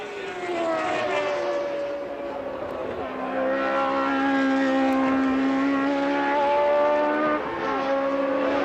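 A Ford-engined Formula 1 race car driven by John Watson at the 1981 British Grand Prix roars steadily, its engine note holding a high pitch with slight shifts, loud and continuous without pauses.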